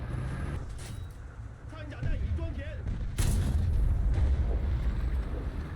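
Tank cannon fire in a War Thunder battle with a Chinese Object 211 tank: heavy booming shots and rumbling explosions over a dense battlefield din, with someone talking over the action.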